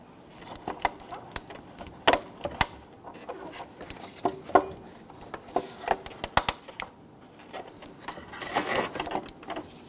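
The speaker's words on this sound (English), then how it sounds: "I'm going to use my pry tool here, my trim tool, to pop these out" A plastic trim tool pries plastic harness retainers loose while a 2006-2010 Hummer H3 fog light is being replaced. Close, sharp plastic clicks and snaps come in irregular bursts, with light rattling and scraping between them.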